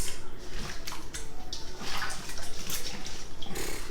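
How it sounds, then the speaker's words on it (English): Raw chicken swished around by hand in a bowl of salt and vinegar water, giving close, irregular sloshing and splashing with quick wet bursts and no talking. "I just use salt and vinegar and just move it around."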